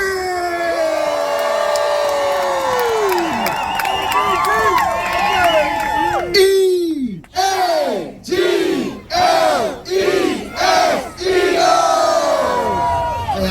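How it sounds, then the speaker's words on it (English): A loud crowd at a Dorney Park tailgate cheers and shouts for two-time Super Bowl champion Brandon Graham, with a sustained roar that breaks into rhythmic chant-like bursts of yelling. "We gotta make some noise as I bring up 2-time Super Bowl champion, Brandon Graham."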